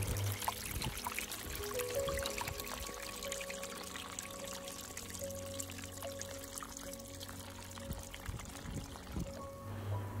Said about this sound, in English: Our little waterfall.